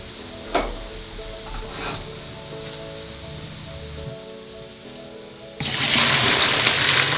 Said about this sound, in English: it's going to keep cooking unless you run it under some cool water